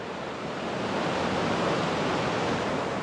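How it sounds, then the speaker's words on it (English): Steady, dense rush of a river flowing in Wales, loud and continuous throughout with no voices. "this is the river that leads down to the Black Waterfalls"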